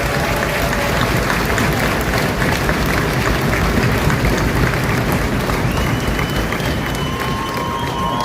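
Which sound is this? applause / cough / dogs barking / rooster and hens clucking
applause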